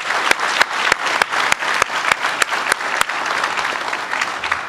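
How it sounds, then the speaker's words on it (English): Applause from an audience honoring military service members at a leadership talk, a dense sustained clatter of many hands clapping, loud and steady throughout with a few sharper claps standing out, no voices over it. "a round of applause for their service to our nation is due"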